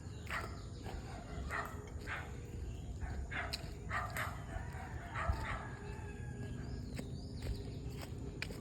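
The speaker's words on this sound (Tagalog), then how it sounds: "yung mga aso nagtatahulan na kasi alam na nila na kakain na sila" Several dogs at a rural hut bark repeatedly before feeding time, in sharp bursts at mid distance over steady outdoor noise, with a rooster crowing faintly in the background.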